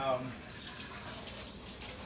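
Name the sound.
cold water poured over cooked pasta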